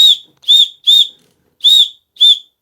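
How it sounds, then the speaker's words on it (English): Five short, loud, high-pitched whistles, each about a quarter second, in an uneven rhythm with silence between them, coming from a cylinder being leak-tested on a Rover 75 engine. "Right, here comes the whistle."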